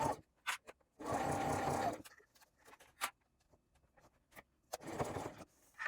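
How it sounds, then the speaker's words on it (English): A sewing machine stitches around a fabric gusset loop in close, quiet bursts, with a long run of rapid stitching, shorter starts and stops, and small clicks between. "Back stitch at the beginning, and sew all the way around to meet back up with our starting point."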